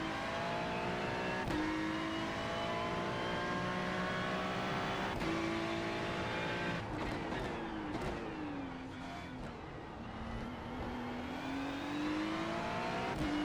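Ferrari Challenge race car engine in iRacing at Navarra revs steadily throughout, with rising and falling harmonic sweeps through gear changes, loud and continuous with no voices.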